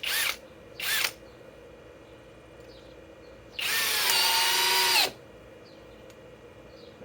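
A Flex compact hammer drill drives a 4-inch timber screw: two short trigger bursts, a pause, then a longer run of about a second and a half whose whine drops in pitch as the screw seats, with quiet gaps between.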